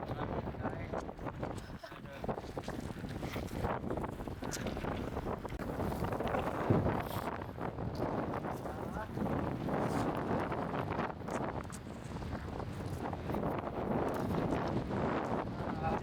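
Strong, cold wind blows steadily on the trail to the Rinjani summit, roaring and buffeting the microphone as a continuous loud rush with no clear breaks.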